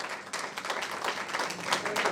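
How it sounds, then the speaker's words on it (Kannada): An audience at a film song release event applauds, a dense, steady wash of clapping from many hands that stays loud throughout. "ಜೋರಾದ ಚಪ್ಪಾಳೆ ಬರ್ಲಿ"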